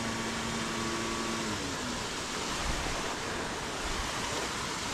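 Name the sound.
river flowing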